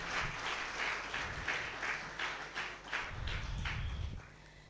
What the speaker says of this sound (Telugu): సో వారిని బట్టి ఒకసారి చప్పట్లు కొట్టి మనం ఘనపరుద్దాం.